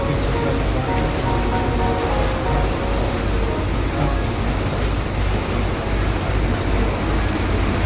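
A tour boat moving on Loch Ness in the Scottish Highlands, with steady loud wash of water and wind rushing across the microphone, a continuous roar with no pauses.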